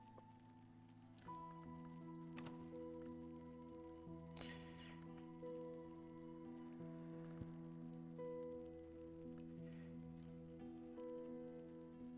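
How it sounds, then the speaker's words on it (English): Rain falling in the video game Book of Hours, a soft steady patter over layered sustained music tones, continuous and fairly quiet throughout. "We got some rain."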